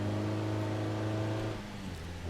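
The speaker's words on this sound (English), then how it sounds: "Now in BeamNG Drive, it's actually a oh damn. Okay, it's actually a turbo diesel." A turbo diesel engine in BeamNG Drive revs hard with a steady droning hum, loud and close, then its pitch shifts and eases slightly near the end.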